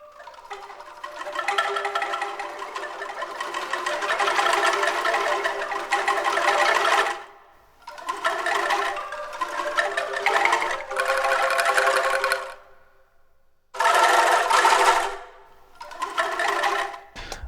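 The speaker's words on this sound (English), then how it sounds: "Angklungs," Sampled angklung ensemble from the Strezov Sampling PRIMAL Ethnic Orchestra library playing a ghost tremolo: dense, shimmering bamboo rattling in sustained bursts of several seconds separated by short gaps, moderately loud and close, with no voices.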